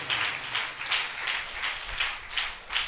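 A church congregation claps together in praise, a steady, even beat of about three claps per second, moderately loud, with no talk over it.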